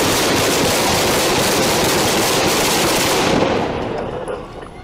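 Police gunfire in Brooklyn, with many rounds fired in a dense, continuous loud barrage, cutting off near the end and leaving a fading tail.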